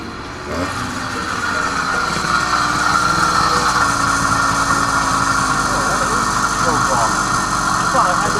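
80cc two-stroke motorized bicycle engine, under porting work, catching after a short spin and settling into a loud, steady buzzing run that holds close and continuous for several seconds.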